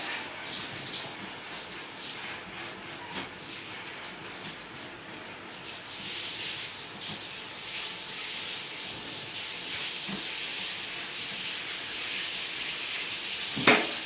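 Shower being rinsed down with running water inside the stall, a steady broadband hiss of spray that swells and grows denser partway through, continuing nearby without any talking.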